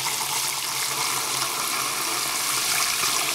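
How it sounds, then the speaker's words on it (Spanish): A small amount of water is poured into a container of sprouting seeds to stir them, a steady close splashing pour that runs continuously without voices. "Ahora echamos otra vez otro poquito de agua para remover."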